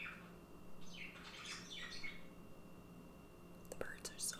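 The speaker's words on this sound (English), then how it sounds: "the birds are so loud." Several birds chirp and call in bright bursts at moderate distance, over a soft whispery background with faint low hum.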